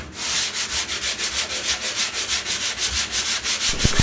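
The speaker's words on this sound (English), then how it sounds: "you may notice that I'm sanding a lot more" Steady back-and-forth sanding strokes rasp across drywall compound in an even rhythm, about four strokes a second, close and continuous with no talking.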